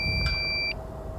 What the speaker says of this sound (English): Sorry for all the beeping, people.